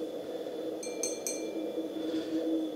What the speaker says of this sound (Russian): Вроде звучат как хрустальные.